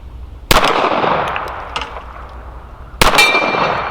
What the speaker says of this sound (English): This gun is shooting low.